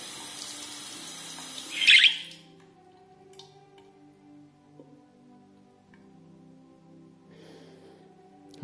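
Hands rinsed under a running tap cover a steady watery rush for about two seconds, which ends with a brief louder splash before the tap falls quiet and only faint room sounds remain.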